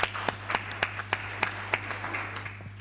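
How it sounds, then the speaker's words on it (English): Audience applause at a patriots' summit launch, a thin spatter of scattered hand claps from a modest crowd, somewhat distant, over a steady low electrical hum. "Give ourselves a good round of applause"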